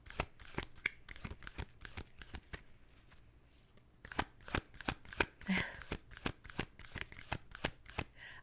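Tarot cards are shuffled by hand in quick, crisp riffling bursts, a steady run of flicks that pauses briefly midway and then resumes, close and quiet.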